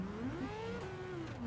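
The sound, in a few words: car engine revving in video game Gran Turismo 7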